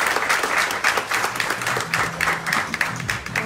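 Audience applause at an association's launch evening, continuous dense clapping from a crowd throughout, close and loud with no talking over it.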